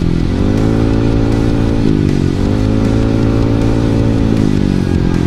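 A small motor scooter engine hums loudly and steadily up close, its pitch rising through two gear shifts as it accelerates.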